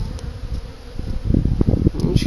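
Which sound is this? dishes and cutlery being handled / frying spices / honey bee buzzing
honey bee buzzing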